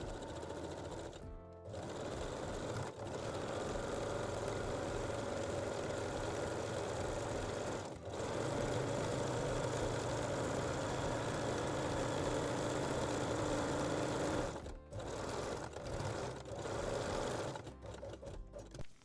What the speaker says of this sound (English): Now we can sew the underbust elastic, the main pieces, and also the strap loops using zigzag, 3-step zigzag or cover stitch machine.